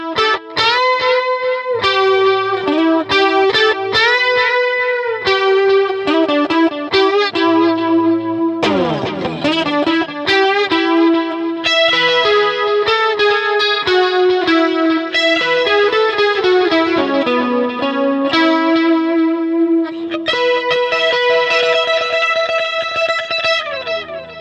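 Electric guitar through a Vox Cambridge 50 modelling amp on a delay preset, playing loud, continuous chiming arpeggiated lines with repeating echoes trailing each note and a few pitch-bending swoops, with no talking.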